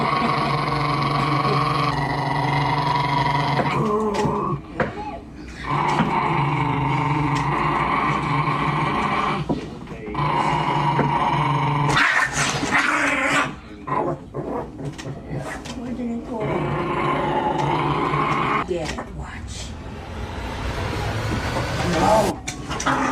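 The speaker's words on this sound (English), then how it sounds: "Hershey was growling the entirety of that clip." A dog named Hershey growls and whimpers almost continuously, a close, rough rumbling that breaks off briefly now and then, mixed with a person talking.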